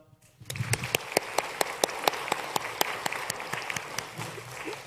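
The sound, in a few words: congregation applauding in church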